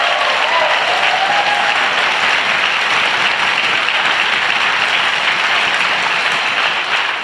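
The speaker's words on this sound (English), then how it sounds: "Could we have a round of applause for them?" Audience applause at an outdoor rally for unity and justice in Acton, a loud dense wash of clapping sustained evenly from start to finish with no talk over it.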